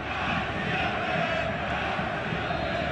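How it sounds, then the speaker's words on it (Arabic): Club Africain supporters roar and chant in the stands of the Olympic stadium in El Menzah after an equalising goal against CA Bizerte, a dense, steady wall of crowd noise. "تشجيع كبير من جانب جماهير النادي الافريقي لفريقها بعد تسجيل هدف التعادل"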